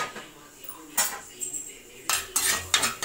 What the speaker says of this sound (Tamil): இப்போ கருவேப்பிலை வறுத்துக்கலாம்